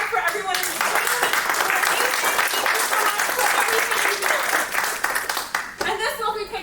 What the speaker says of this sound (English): an applause for everyone in the room